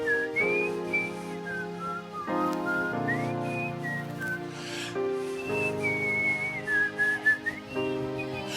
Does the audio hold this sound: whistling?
yes